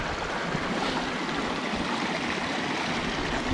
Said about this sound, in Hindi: ये पानी ग्लेशियर से आ रहा है